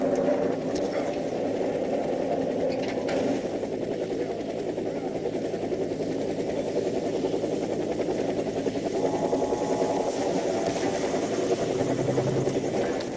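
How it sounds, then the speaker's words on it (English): A helicopter arrives in the Warface shooter game during a Halloween update match, a loud, steady rotor and engine drone that holds throughout with a faint rhythmic chop and no speech. "Helicopter is inbound."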